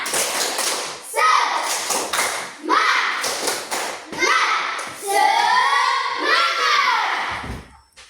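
Children in a classroom clap in rhythmic groups of quick beats while chanting together, with close, loud claps and excited young voices throughout.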